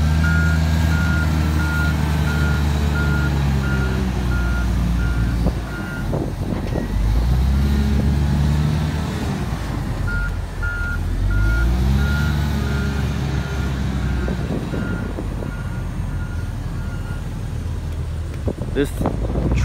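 A big dump truck engine rumbles steadily nearby alongside a tractor loader, while a reversing beeper sounds in regular pulses, with wind buffeting the microphone.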